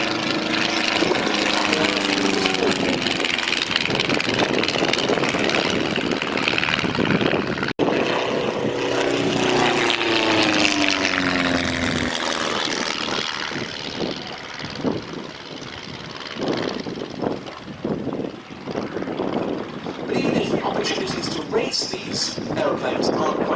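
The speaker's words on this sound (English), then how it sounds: "Kansas is still a really good aircraft for the newly fledged display pilot." A Kansas biplane's piston engine and propeller drone at a race-day airshow, steady and loud for most of the clip before thinning out, with a commentator talking throughout.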